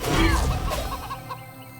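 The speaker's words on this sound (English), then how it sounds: "Chicken!" A farm chicken clucks in the video game South of Midnight, a loud, close burst of agitated squawks and clucks that tapers off over a couple of seconds.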